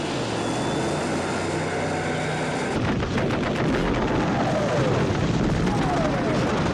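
Naval guns firing from two ships in the 1965 film Thunderball, a dense barrage of loud booms and rumbling blasts over a steady roar, with aircraft-like whine and a brief voice in the mix.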